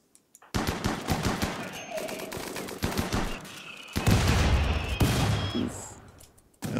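Rimworld combat erupts in rapid bursts of gunfire with sharp repeated shots and a heavier blast around the middle, loud and dense with brief pauses, under occasional talk.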